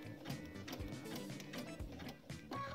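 A domestic sewing machine runs steadily, stitching along the outside edge of a fabric applique shape with a close, dense mechanical chatter of rapid needle strokes and no talk.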